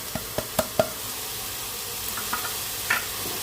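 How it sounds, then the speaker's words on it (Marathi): Spices including asafoetida, turmeric, garam masala and Malvani masala being sautéed with paste in a pan, giving a soft steady sizzle broken by a few sharp knocks of a spoon against the pan, close and fairly quiet. "व्यवस्थित मसाले परतवून घेऊया"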